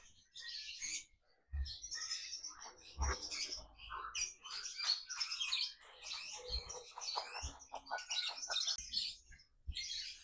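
A male lovebird sings in busy bursts of high chirps, tweets and squawky trills, close and fairly clear, with brief pauses and a few low knocks between phrases.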